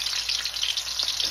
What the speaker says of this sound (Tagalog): Let's put onion.